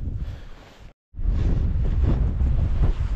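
Strong wind buffets the microphone at a wild camp tent pitch on Windy Gyle in Northumberland, a loud steady rumbling roar that cuts out briefly near the start, then returns at full strength with no speech.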